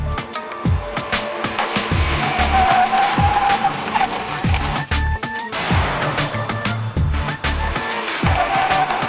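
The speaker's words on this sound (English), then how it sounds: "we're going to stop the car 10 times back-to-back from 60 miles an hour and measure the distances." A Subaru WRX brakes hard from 60 mph again and again, its tires squealing and skidding loudly over engine and road noise. Bursts of screech rise and fall through the run with no one speaking.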